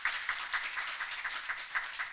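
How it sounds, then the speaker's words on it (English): Audience applause at a graduation ceremony for a biosafety professional training course in Ottawa, Canada: a light, even patter of clapping that runs throughout, moderately distant, with no talk over it. "Round of applause, please."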